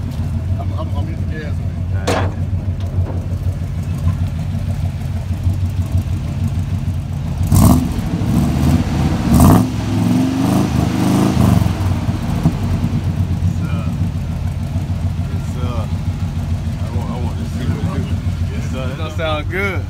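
Chevrolet C-10 truck engine revving on the gas, a steady mid-pitched drone with a louder surge of revs partway through, heard close up with people talking over it.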